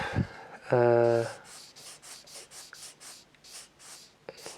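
A four-step nail polishing sanding stick is rubbed in a quick, steady series of about ten close, dry rasping strokes, preceded by a brief tonal squeak.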